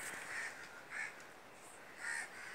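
A large flock of crows, over a thousand gathered in one place and agitated, caws in harsh repeated calls, about four distinct caws spaced across a couple of seconds with a noisy background of more distant cawing.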